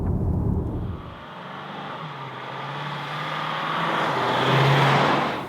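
Porsche Panamera Sport Turismo 4S estate on a sporty country drive, giving a steady engine and road roar that swells and eases as the car accelerates, with nobody speaking.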